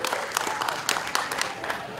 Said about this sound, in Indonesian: Sekali lagi tepuk tangan untuk Bank Mandiri.